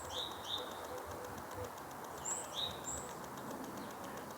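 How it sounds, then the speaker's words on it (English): Small birds sing and chirp in a lush garden with a plum tree and birch trees, including great tits. The bright calls are faint and distant, with a few short phrases over quiet outdoor background. "Lots of bird song."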